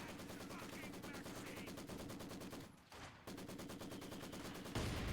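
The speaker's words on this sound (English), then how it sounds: "This Maxim is making life hell" Maxim machine gun in Company of Heroes 2 fires long, rapid, steady bursts of close gunfire, with a brief lull near the middle before the fire resumes.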